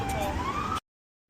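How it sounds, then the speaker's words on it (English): Emergency vehicle siren wailing on a street, a loud rising tone with traffic rumble underneath, cutting off abruptly after under a second. "I wanted to know where the siren was that I'm hearing"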